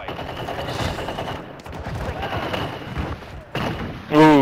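Rapid gunfire bursts crackle through a video game firefight, with a player talking over much of it and a rising electronic tone near the end.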